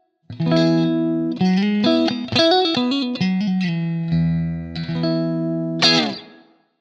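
A clean electric guitar through a Blackstar St James 6L6 amp plugin plays a series of ringing chords and single notes, steady and fairly loud, ending with a bright strum that fades out.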